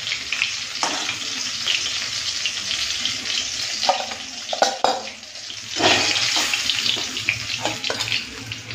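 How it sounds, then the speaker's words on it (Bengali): Live rui fish fries lightly in oil in a wok, a continuous sizzling crackle with scattered pops and a few clattering handling sounds, no voices. "যেহেতু জ্যান্ত রুই মাছ তাই বেশিক্ষণ লাগবে না ভাজতে, বেশি কড়া করে ভাজবো না, হালকা একটুখানি ভেজে নিলাম"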